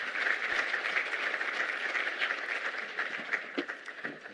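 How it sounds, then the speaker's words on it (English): Audience applause at a national climate resilience symposium as the electricity and energy minister walks to the stage, a continuous wash of many hands, moderately distant, easing off into a few separate claps at the end. "So please make a round of applause as he makes his way to stage"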